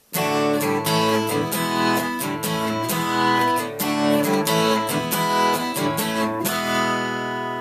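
Strummed guitar chords in a choppy, syncopated Bo Diddley beat, a shave-and-a-haircut rhythm, bright and close, repeating the same accented pattern without any voice.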